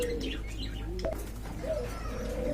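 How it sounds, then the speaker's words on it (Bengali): Rajgolla pigeons coo repeatedly at a bird market, with soft chirps and steady background bustle throughout. "ছয়শো টাকায় এক জোড়া রাজগোল্লা কবুতর"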